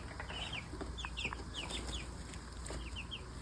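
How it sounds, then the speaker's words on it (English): Young guinea fowl chicks give thin, high peeping calls in quick scattered bursts, faint over a steady background hum. "We have chicks. Lots of chicks."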